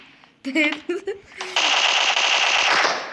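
Rapid automatic gunfire in the video game PUBG Mobile bursts out loud and sustained after a few short spoken words, a continuous rattling stream of shots.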